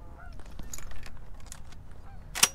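Canada geese honk during a public land goose hunt in Michigan, several scattered calls from birds at some distance over quiet outdoor ambience, with one sharper, louder honk near the end.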